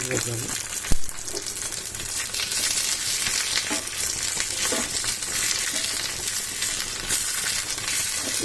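Tomatoes sizzle steadily in a hot pan while being stirred for jowar dosa, a dense continuous frying hiss with scraping strokes and one sharp knock near the start, close and fairly loud.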